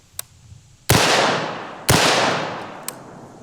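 Two loud, sharp rifle shots, about a second apart, fired at lightweight body armor outdoors, each blast followed by a long decaying echo, with faint clicks in between.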